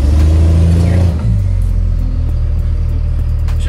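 A Cummins diesel engine runs loud and close in a deep, steady rumble, its note shifting briefly about a third of the way through before settling into a constant heavy drone.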